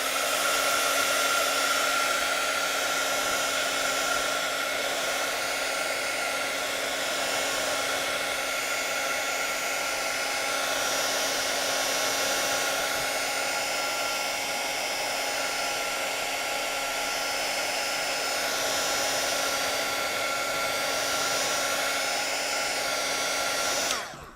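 A hair dryer runs steadily for about twenty-four seconds, speed-drying a handmade vintage-style card; the blowing whir is loud, close and unbroken, with a steady tonal hum and no talking, cutting off at the very end.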